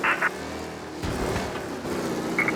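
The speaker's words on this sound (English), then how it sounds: "Officers reporting a race car driving at speed through the city." A race car speeds through a city in the video game Mafia, engine roaring steadily with a sudden surge as it accelerates, heard up close with faint radio-like beeps at the edges.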